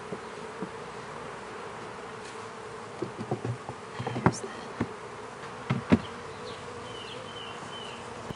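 Faint, steady buzzing of many honeybees at a split hive with occasional soft knocks and clicks, a quiet outdoor hum without talk.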